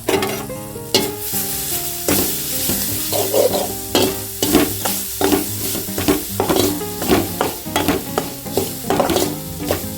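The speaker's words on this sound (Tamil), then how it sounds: "தேங்காய் வறுத்துக்கலாம்." Grated coconut roasting in ghee for horse gram laddu, a steady sizzle broken by repeated scraping stirs of a spoon against the pan, close and fairly loud with no talking.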